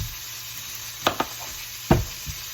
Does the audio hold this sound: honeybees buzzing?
no